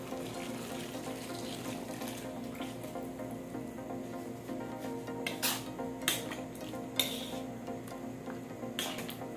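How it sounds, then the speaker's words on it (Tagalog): Coconut milk poured into a pot while cooking mung beans, a steady liquid pouring and splashing texture with a few brief clinks of cookware. "lagay natin itong ating coconut milk"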